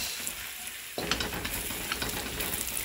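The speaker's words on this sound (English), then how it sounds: "just a little saute of onions with some spices." Onions sautéing with turmeric and other spices in a pot for rajma. A quieter stretch gives way after about a second to a louder, continuous close sizzle with scraping stirs, and no one talks.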